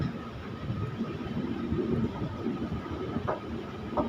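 A train at Balurghat railway station rumbles at low pitch with steady engine noise and a rattling undertone, heard close by for a few seconds.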